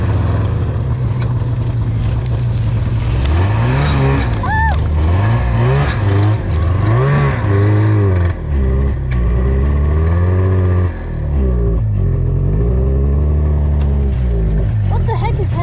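A snowmobile engine runs roughly and loudly close by, its pitch surging and dropping unevenly and then settling near the end, while a voice talks over it.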